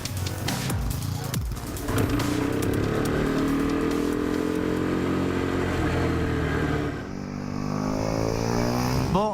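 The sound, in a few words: powerful lightweight motorcycle riding on a track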